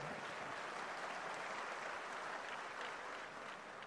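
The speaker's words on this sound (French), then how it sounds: "Applaudis pour le jeune, moi, je travaille pour ça." Dense, continuous applause from a large audience at a launch event in Senegal, many hands clapping together in a steady roar with no pauses.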